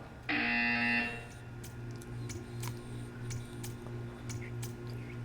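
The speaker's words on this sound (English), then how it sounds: "You will hear a buzzer." A loud electronic buzzer in Portal 2 sounds once for about a second, followed by a low hum and scattered faint ticks and clicks.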